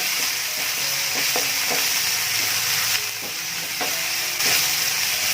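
Homemade amchur powder masala sautés in a pan with a steady close sizzle, while a spoon stirs and scrapes in repeated strokes across the pan and no one talks.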